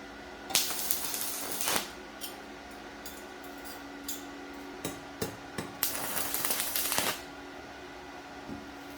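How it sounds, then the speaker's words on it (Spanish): Steel plates being welded onto the seat and backrest of a metal rocking chair, with bursts of crackling, sizzling spatter over a steady low hum, fairly quiet and close. "Lo siguiente que hago es soldar unas pletinas al asiento y al respaldo"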